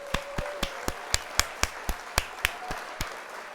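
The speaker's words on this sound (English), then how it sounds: "Let's hit the applause there." An applause sound effect plays during a livestream of a Gundam model kit build, heard as about fourteen evenly spaced, crisp claps in a steady rhythm, fairly quiet, with a faint sustained tone early on.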